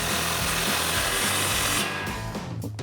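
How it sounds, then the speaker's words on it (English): An impact tool with a 16mm socket tightening the clamp on an exhaust crossover pipe of a Ford F-150 dual exhaust. A loud, steady mechanical whir runs close up, then winds down with a few rattles. "Now we have our clamp for our crossover pipe. Tighten that down. Still the same 16mm socket."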